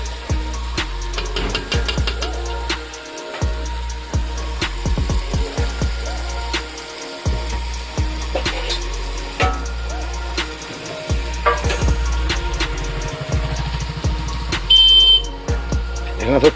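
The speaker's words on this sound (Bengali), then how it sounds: "এখানে তো তেলে ভাজা ভাজা" Chicken fries in hot oil while friends cook meat together at an outdoor feast. A steady sizzle runs under nearly continuous talk, with clatter and a low background hum throughout.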